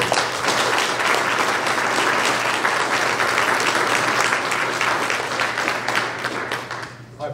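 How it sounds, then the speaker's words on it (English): Audience applause at a high school National Honor Society induction ceremony, a dense, sustained round of clapping that carries on for several seconds and then tapers off near the end. "Let's give our students one more round of applause."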